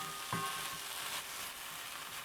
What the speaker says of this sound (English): what I want to do is just let this fry until all of my tomatoes and all of my onions have cooked down